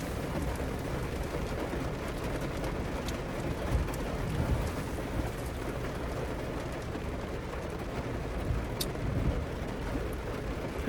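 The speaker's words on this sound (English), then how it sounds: "It's raining hard." Heavy rain pours down steadily, a dense continuous hiss with occasional louder drips and spatters close by.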